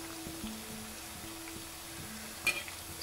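Jaggery anarsa frying in ghee, a steady low sizzle with faint bubbling throughout and one brief sharper clink or spatter near the end, fairly quiet and close.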